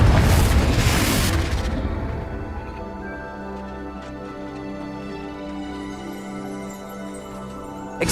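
A Confringo fire spell blasting in the video game Hogwarts Legacy: a single heavy, loud boom up front that decays into a long, low rumbling tail with faint ringing tones.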